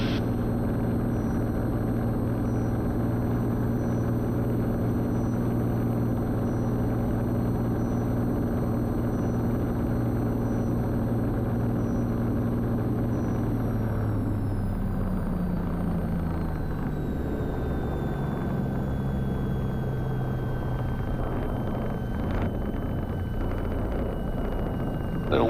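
Small airplane engine drones loud and steady through a takeoff on an instrument mountain departure, a heavy continuous rumble heard from inside the cabin that shifts in tone as the plane lifts off, with no voices.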